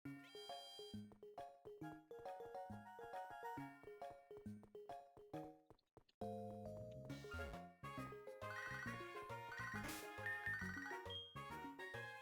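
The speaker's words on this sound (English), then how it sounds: "We're getting a phone call from Wade." Ringtone-style melodic jingle from Pokémon HeartGold, the handheld game's in-game phone call alert, repeating in a steady rhythm of short tones before a fuller burst of game music, loud and clear with no talking.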